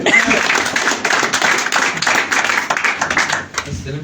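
An audience at an indoor gathering claps loudly and steadily in a dense, continuous burst that thins out toward the end, heard up close.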